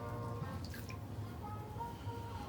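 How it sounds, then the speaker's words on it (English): Water drips and trickles from a cloth being wrung out after soaking in distilled water, a few soft splashes and patters, faint and close, with no talk. "I'll take my cloth that's in distilled water,"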